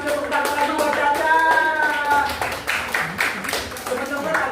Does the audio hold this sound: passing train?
no